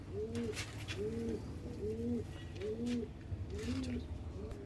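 Pigeons coo in a steady, repeated rhythm, five or six soft rolling calls close by in a pigeon loft, over a low background hum.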